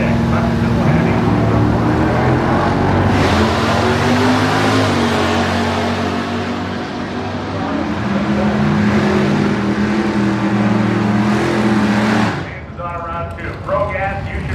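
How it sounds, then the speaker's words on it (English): At a nostalgia drag-racing meet, a 1967 Buick GS with a 400 cubic inch Buick engine and a 1963 Galaxie with a 445 cubic inch big block roar loudly, engines droning and rising under an announcer's talk, then cutting off abruptly. "a 67 Buick GS with a 400 cubic inch Buick engine, and a 63 Galaxy with a 445 cubic inch version of an SE big block"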